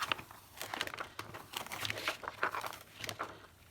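Crinkling and crackling of a cut foil acetate sheet being peeled off a cutting mat, a close, irregular run of small sharp crackles and rustles with no talking.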